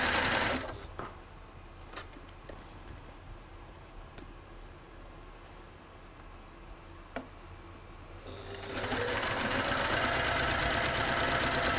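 Sewing machine stitching a quilt block, a steady mechanical whir running throughout, faint at first with a few ticks, then growing markedly louder and busier near the end as it runs faster.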